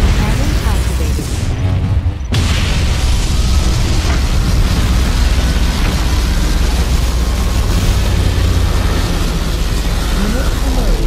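Particle cannon blast from the strategy game Command & Conquer Generals: a loud, sustained explosive roar with deep rumbling booms and crackling debris that runs continuously for about eleven seconds after a brief lull.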